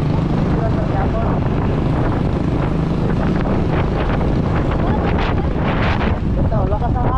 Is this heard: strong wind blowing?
yes